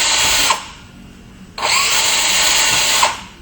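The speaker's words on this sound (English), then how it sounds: "Drill 4 holes, and you're just going through the outer layer." A power drill boring drainage holes through an outer layer, two loud sustained bursts of whining motor and cutting noise separated by a short pause, close and alone.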